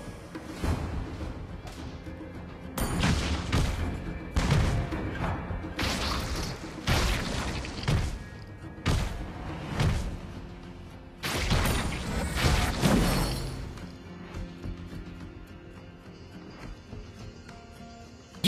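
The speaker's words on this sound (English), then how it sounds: "Our turret has been destroyed." A turret is destroyed in the Mobile Legends battle arena game, heard as a series of heavy booms and thuds amid crashing impacts and mechanical clatter, loud bursts coming in quick clusters before settling into quieter background game sound.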